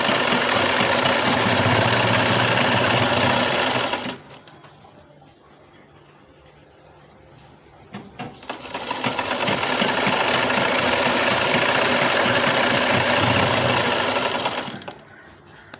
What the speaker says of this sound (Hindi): इसके बाद ये नीचे तक पूरी सिलाई ले जाएंगे। इसी तरह पूरी लंबाई में सिलाई ले जाएंगे।